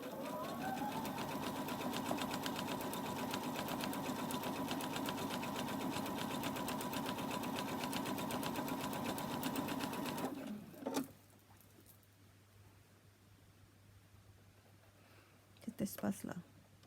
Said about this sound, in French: Je vais faire attention à ne pas coudre là où je vais laisser pour faire entrer l'élastique